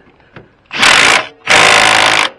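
An impact wrench tightens a jam nut on a Case Ingersoll tractor's steering during alignment work, firing two loud, close bursts of rapid hammering, the second one longer, after a faint click.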